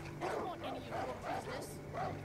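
Dog in the video game Far Cry 5 barking in a quick run of five or six rhythmic, moderately loud yaps with a whiny edge, set against low game ambience.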